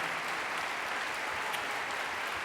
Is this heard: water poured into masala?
no